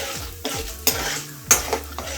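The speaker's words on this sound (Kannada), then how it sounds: "ಬೇಳೆ ನೀಟಾಗಿ ಫ್ರೈ ಆಗಬೇಕು ಎಲ್ಲ ಕಡೆನೂ. ಹಾಗಾಗಿ ಮಿಕ್ಸ್ ಮಾಡ್ಕೊಳ್ತಾನೆ ಇರಬೇಕು." A spoon scrapes and stirs lentils frying in a pan for a spicy chutney, with a few distinct scraping strokes against the metal over a faint, steady sizzle.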